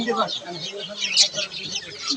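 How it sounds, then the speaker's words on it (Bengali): Chickens at a poultry stall give a few short clucks and squawks over a couple of seconds, mixed in with people talking nearby. "সুন্দর সুন্দর পাখি আছে মুরগি আছে"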